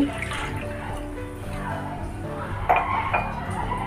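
Water is poured from a cup into a bowl while preparing chicken snacks in a home kitchen, a steady soft splashing trickle with a bright clink of the cup against the bowl near the end.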